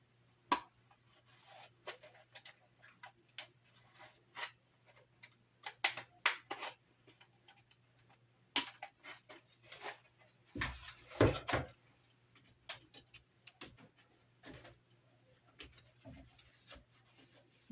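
Cardboard being cut by hand for a castle tower model, giving irregular rasping and scraping strokes with sharp clicks and snips, close and fairly quiet, with brief silences between cuts and no talking.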